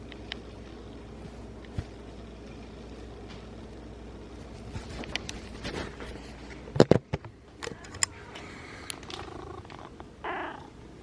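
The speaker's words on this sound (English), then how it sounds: "I can hear you over here purring." A soft, steady purr rumbles close by, low and continuous, with a few faint clicks and rustles and one brief louder bump partway through.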